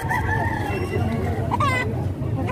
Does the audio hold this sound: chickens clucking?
yes